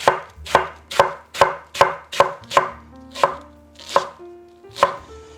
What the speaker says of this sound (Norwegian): Så den bare skjærer jeg først ned i noen strimler.